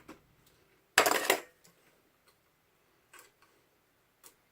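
Scissors snip through plastic zip ties, one loud crunching cut followed by several quiet, sparse clicks and ticks close by, with no talking.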